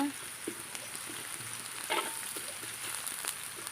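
Shallots frying in a pan for a stir-fried preserved radish and egg dish give a steady, quiet sizzle with a few faint stirring clicks, heard alone without any talking.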